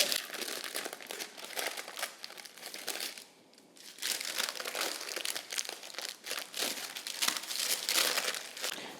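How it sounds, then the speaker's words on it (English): Parchment paper crinkles and rustles continuously as zucchini-flour dough is shaped on it, close and fairly soft, in busy bursts of crackling broken by one brief quiet pause. "I'm gonna use the help of the parchment paper a little bit."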